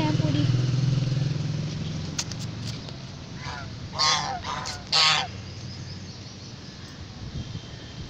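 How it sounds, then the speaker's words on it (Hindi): Loud honking quacks from waterfowl nearby, a few bursts in a row, over steady outdoor rumble with a voice speaking. "इधर बत्तख हैं पूरी"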